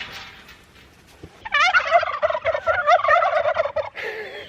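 Several turkeys gobble loudly and repeatedly nearby in a rapid, rolling chorus of warbling calls, preceded by quiet background noise and a faint thump.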